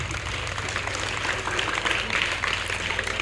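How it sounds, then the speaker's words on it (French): An audience applauds at a school excellence-day awards ceremony honouring high-school pupils, a steady, dense wash of many hands clapping together that holds evenly from start to finish with no voices over it. "J'aimerais que vous les applaudissiez, s'il vous plaît."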